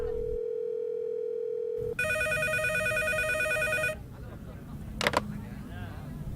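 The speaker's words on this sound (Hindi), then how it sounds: "पब्लिक टेलीफोन बूथ पर इनकमिंग कॉल कैसे आ सकती है?" Public telephone booth phone ringing, first a steady tone then a bright repeating electronic ring lasting about two seconds, followed by a brief click and background noise with voices.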